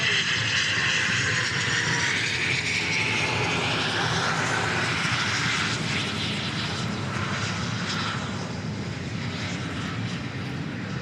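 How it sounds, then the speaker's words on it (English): An Embraer Phenom business jet operated by NetJets lands at Dallas Love Field, its engine roar loud and steady throughout with a rising whine, close by and alone with no talk. "we get an Embraer Phenom landing for NetJets"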